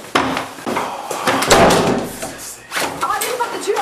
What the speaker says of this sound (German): Arif, mach die Tür auf!